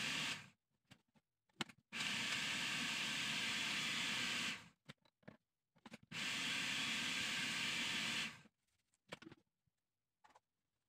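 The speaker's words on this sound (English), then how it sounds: "pour the milk into the blender and mix it for a while" A kitchen blender whirs through milk and Oreo cookies in two long, steady bursts of a few seconds each, separated by brief clicks and quiet pauses.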